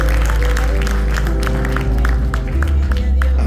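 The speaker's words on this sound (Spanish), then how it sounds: "Dale un aplauso fuerte a Dios" A church congregation claps over a deep, sustained musical drone, the hand claps coming as loose scattered bursts partly masked by the steady low tones.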